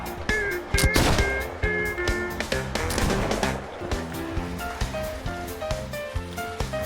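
Gunshots in the naval combat game Blackwake, sharp repeated cracks at irregular intervals mixed with game music and ambient noise, fairly loud and busy throughout.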